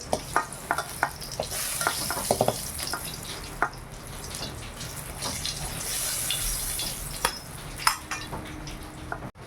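Pointed gourd (potol) pieces sizzle and fry in a pan in a home kitchen, with a steady crackling hiss broken by frequent sharp clinks and scrapes of stirring.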